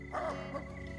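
A man imitates a barking dog, giving a couple of yelping, whining barks with his voice, fairly faint against steady background music.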